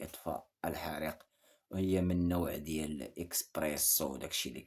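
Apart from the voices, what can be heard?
No everyday noise stands out behind the speech.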